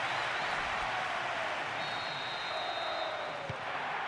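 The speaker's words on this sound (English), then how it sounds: "A huge roar of approval from the record crowd." Record crowd at a football match in PES 2010 on PS2 roaring with approval after an equalising goal, a steady, dense wash of cheering and applause holding throughout without a break.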